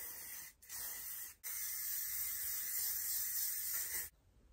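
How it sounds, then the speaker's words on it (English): Elnett Shine hairspray for dull hair sprays from an aerosol can onto curled hair in close, steady hissing bursts, broken by two short pauses before a final stop. "So now I'm going to go in with some hairspray. I'm going in with Elnett Shine Dull Hair."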